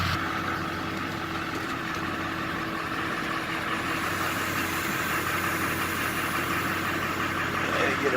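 A car engine idles and rumbles steadily nearby while the car is driven over a tire to break the bead, with a continuous mid-pitched drone throughout.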